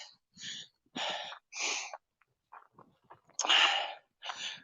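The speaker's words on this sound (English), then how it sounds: "I know I'm heavy breathing, guys, but we are climbing" Heavy, rhythmic breathing from a person climbing uphill on a mountain trail to ruins: loud, close puffing exhales and gasps in regular bursts with short pauses, no talking.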